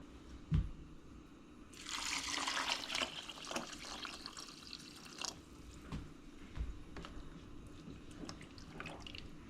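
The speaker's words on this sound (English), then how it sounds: "All right, to this, we're going to add some water." Water pours into a pot of red beans and rice, a dense rushing splash that starts about two seconds in and tapers into a steady trickle and drips, close and fairly quiet.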